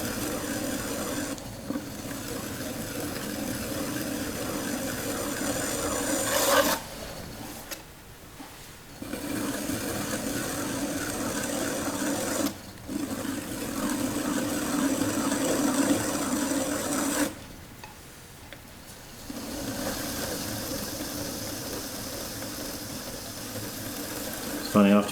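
An electric potter's wheel spins steadily while clay is trimmed with a trimming tool, a continuous close mechanical whir with gritty scraping that drops out briefly twice.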